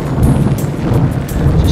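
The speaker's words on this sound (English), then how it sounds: "It's very windy, it's raining, and my tent is leaking." Strong wind and rain on open moorland batter a leaking tent at a wild camp. A loud, rumbling gusting roar runs continuously, with mic buffeting and no voices.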